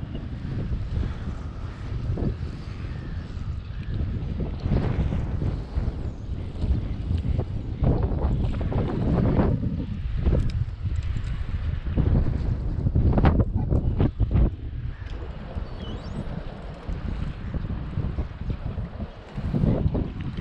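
Strong sea wind buffets a fishing boat out on the Irish Sea, a continuous loud roar with gusty swells and bumps against the microphone, with no talking.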